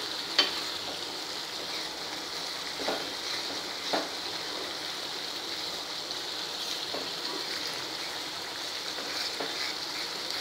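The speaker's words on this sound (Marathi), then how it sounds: "आपण झाकण काढून आता असा हलवून त्याचा पाण्याचा अंश सुकवून घेऊया" Bottle gourd halwa sizzles softly in an uncovered pan while being stirred to cook off its moisture, a steady frying hiss broken by a few faint scraping knocks of the spoon.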